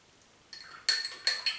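A small spoon clinks repeatedly against a glass of water as baking soda is stirred in: a few sharp, bright taps in an irregular rhythm, close and clear, with no talking.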